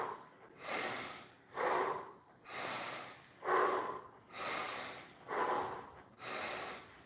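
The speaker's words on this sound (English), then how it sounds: "Out through your mouth, in through the nose." Deliberate breathing in a seniors' fitness class: seven slow, even cycles of exhaling through the mouth and inhaling through the nose, each a broad airy rush, close and fairly loud, with no talk.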